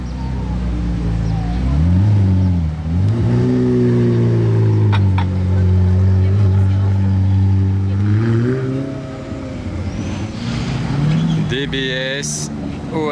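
A McLaren 765 LT Spider revs loudly and close by, its engine note rising and falling in long sweeps, while a voice talks over it.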